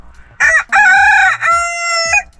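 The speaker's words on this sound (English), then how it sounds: "You're crowing at a wall. What are you doing? Look at these crazy chickens." A rooster crows loudly and close by in one full drawn-out cock-a-doodle-doo with a brief break partway through, the crowing aimed at a wall.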